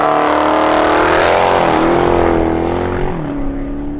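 A Mopar Hellcat with Race Star wheels drives along, its engine a loud, continuous close-up roar that rises slightly in pitch and then eases off, with no speech over it.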